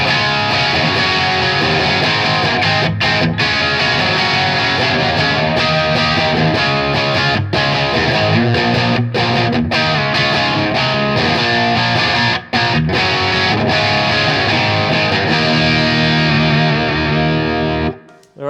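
A loud, driven electric guitar runs through channel 2 of a Blackstar HT Stage 100 MKIII amp, playing continuous distorted chords and riffs with short percussive breaks. A last chord is let ring and cut off near the end.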